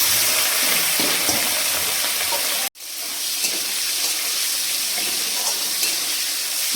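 Cumin seeds and chili tempered in hot oil for a vegetable dish give a steady, bright sizzle that cuts out for an instant and then resumes at the same strength.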